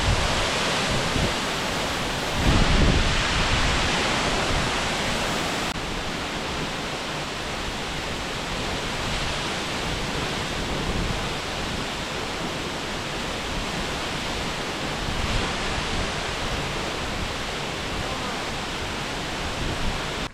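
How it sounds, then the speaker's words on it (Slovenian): Gveleti waterfall, about 60 metres high, in the Georgian Caucasus mountains, roars as a steady, dense, loud wash of falling water with no break, heard close by. "Veliki slap Gveleti."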